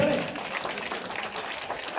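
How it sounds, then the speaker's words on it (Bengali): Crowd applause at an opening ceremony during a puja pandal visit, a quiet, fairly steady patter of clapping heard from a distance. "সবাই হাততালি"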